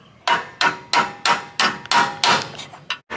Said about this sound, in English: I'm gonna hit it with a hammer